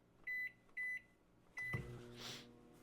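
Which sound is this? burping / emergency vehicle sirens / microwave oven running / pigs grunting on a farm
microwave oven running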